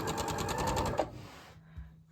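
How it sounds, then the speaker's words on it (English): A sewing machine stitching quilt pieces runs in a fast, even mechanical chatter for about a second, then slows and stops, leaving a low hum; close by, with no talking. "as I'm sewing it"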